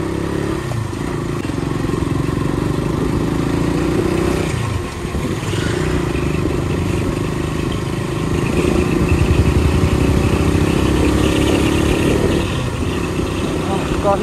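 Motorcycle ridden off-road, a Bulbul bike, engine droning steadily near throughout with rising and falling revs and rattling clatter, speech also present.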